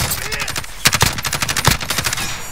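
Gunfire in Call of Duty Warzone on Rebirth Island: loud, rapid automatic bursts crack out repeatedly in quick succession over a couple of seconds, with a few separate sharper shots standing out.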